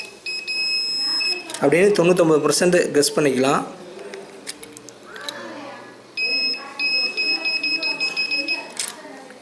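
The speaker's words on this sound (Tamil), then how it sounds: "நான் பஸர் மோடில் வச்சுருக்கேன்." A multimeter in buzzer mode gives a steady high-pitched continuous beep while its probes test a mobile phone coil, sounding in two stretches with someone talking between and over them.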